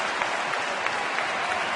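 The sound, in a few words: standing ovation from the Miller Park baseball crowd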